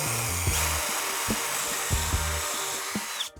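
A power drill whines steadily boring 1/4 inch holes into wood, with a few sharp knocks and clicks as the bit bites in, then the motor cuts off.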